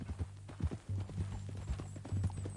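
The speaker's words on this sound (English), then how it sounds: "That new horse?" Horse hooves clip-clopping at a steady walking pace in the Red Dead Redemption 2 video game, close and moderately loud, with a low snort or brief whinny mixed in.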